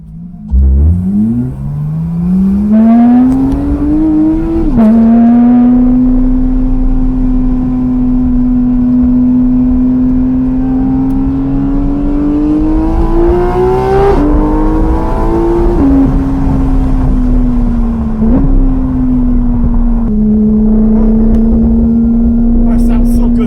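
A Porsche 911 GT3 RS accelerates on a race track, its engine heard from inside the car climbing in pitch with a loud sustained howl, brief dips at gear changes, and a voice talking under it.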